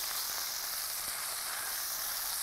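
Chicken fries in a pan with a steady, even sizzle that holds at a constant level throughout, with no talking over it.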